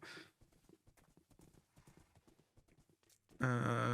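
Horse hooves clip-clop in a steady walking rhythm in a video game, fairly quiet and close, ending with a loud, bright neigh.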